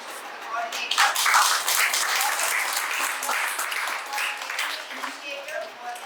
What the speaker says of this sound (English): It's a great round of applause, guys, to the coordinator.